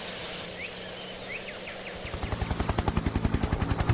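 A CH-3C Jolly Green rescue helicopter approaches, its rotor chop swelling from a distant drone into loud, rapid, rhythmic thumping near the end.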